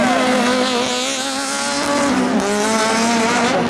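A Super 1600 rallycross car engine screams at high revs during an Italian Rallycross Championship race, loud and sustained, with pitch shifting as it accelerates and changes gear.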